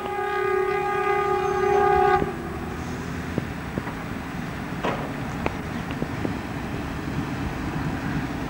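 A train on a 1991 Budapest suburban railway line sounds a long, loud horn blast, then rumbles past with scattered sharp clanks and rattles of wheels and wagons continuing at moderate distance.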